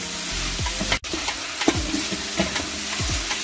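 Meat frying in a pot with black pepper and turmeric, stirred with repeated scraping strokes over a constant loud sizzle, plus a brief clunk partway through.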